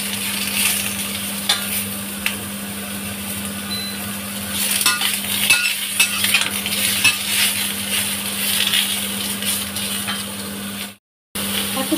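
Garlic and ginger sautéing in a pan give a steady close sizzle with scattered stirring scrapes, under a constant low hum; it cuts out briefly near the end.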